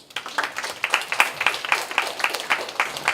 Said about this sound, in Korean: 여러분 박수 한번 보내주세요.